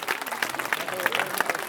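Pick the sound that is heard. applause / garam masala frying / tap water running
applause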